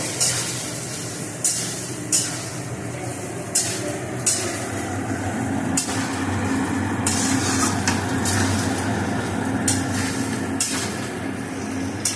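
Mango pieces being stirred and fried in a pan, a constant sizzle broken by repeated sharp scraping strokes of the spatula every second or so, close up with no voices.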